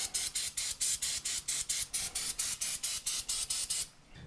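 Cleaner sprayed in quick repeated bursts beneath a Mercedes SL55 AMG during rear differential and oil maintenance, about fourteen even hissing pulses at a steady rhythm, close and fairly quiet, ending in near silence.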